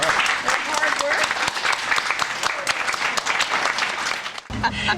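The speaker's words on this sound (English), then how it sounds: "A nice round of applause for their hard work." An audience gives dense, loud applause for a group of students on a distillery visit, with steady clapping throughout that dips briefly near the end.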